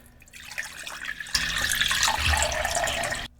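Tap water runs steadily into a measuring cup in a kitchen, a continuous splashing stream that grows fuller and louder partway through before cutting off abruptly, with no talking over it.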